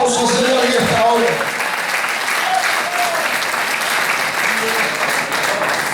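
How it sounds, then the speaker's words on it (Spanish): Church congregation applauding during a sermon, a loud continuous wash of many hands clapping that holds steady for the whole stretch, with a preacher's voice briefly over the start. "Denle un fuerte aplauso al Señor en esta hora."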